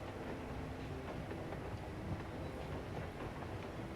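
A train rolls along in Final Fantasy XIV, with a steady low rumble and faint rhythmic clatter of the cars on the rails, continuous and fairly quiet, with no talking.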